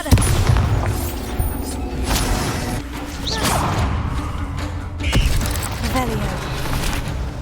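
Bombarda blasting spell explosions in Hogwarts Legacy, several heavy booms and crashing thuds with whooshing spell effects, a spoken incantation mixed in among them.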